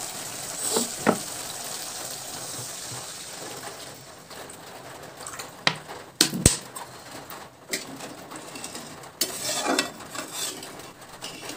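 Fish gravy with ridge gourd being stirred in a pan, with a soft continuous simmer and scattered utensil scrapes and clicks, one sharper knock midway, all fairly quiet with no talk.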